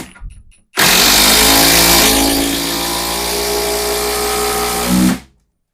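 A Procraft Industrial ID20A cordless impact wrench (180 Nm, 3500 rpm) runs on first speed driving a bolt, a loud, steady whir holding a constant high-speed buzz for several seconds before spinning down abruptly to silence.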